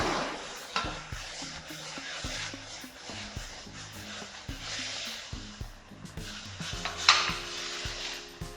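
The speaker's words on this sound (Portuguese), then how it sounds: "eu já começo a mexer essa massa" Spoon stirring coxinha dough made from broth and wheat flour in a pot, giving repeated soft scraping and knocking strokes in an uneven rhythm, close and moderately quiet, with faint background music.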